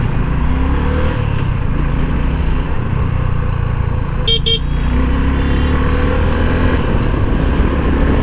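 Suzuki V-Strom motorcycle engine rumbling steadily under a rider in dense city traffic, heavy wind and road noise throughout, with a brief double horn toot from nearby traffic partway through.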